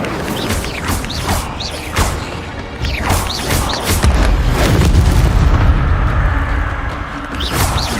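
Hogwarts Legacy spell effects for Accio, Incendio and Expelliarmus: a steady run of whooshing casts, crackling flares and booming impacts, loud and close, layered over a low rumble that swells midway.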